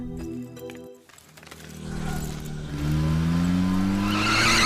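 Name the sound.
car skidding with tires squealing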